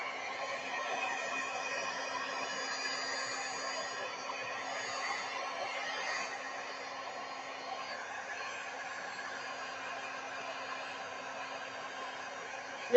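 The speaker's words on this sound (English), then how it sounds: "I'm going to put the heat embossing thing on." A heat embossing tool blows hot air over paper during card making, a steady close whirring hiss with a faint hum that runs unbroken throughout.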